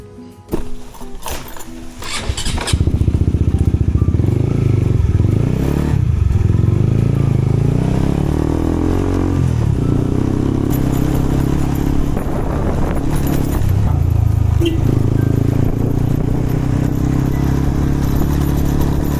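A five-year-old motorcycle's engine starts after a few seconds of clattering, then runs steadily close by, its idle rising and falling in pitch.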